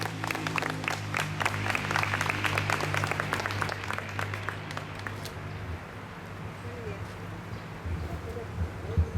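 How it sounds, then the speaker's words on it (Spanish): Audience applause welcoming a doctor to the stage at a health forum, with many hands clapping for about five seconds before fading into a murmuring room where a voice begins speaking. "un aplauso, por favor"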